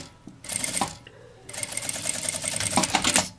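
Sewing machine stitching the joined ends of a fabric bag strap, two bursts of rapid mechanical chattering separated by a short pause, the second burst longer and building toward the end.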